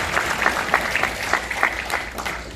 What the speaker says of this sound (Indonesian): Mari kita tepuk tangan bersama ya.